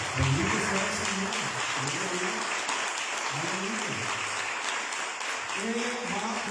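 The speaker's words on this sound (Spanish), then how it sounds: "Denle un aplauso al Señor" A church congregation claps steadily at a Spanish-language service, with the applause dense and continuous while a voice speaks intermittently over it.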